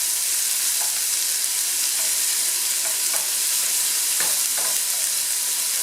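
Onions sautéing in rendered sausage oil, a steady broadband sizzle that holds evenly throughout, with a few faint utensil scrapes from stirring.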